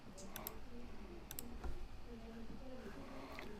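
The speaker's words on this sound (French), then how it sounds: "La touche majuscule enfoncée, vous la gardez enfoncée et brièvement vous enfoncez la touche tabulation." Shift and Tab keys are pressed on a computer keyboard during an Adobe InDesign lesson, giving a few faint clicks under a quiet voice talking.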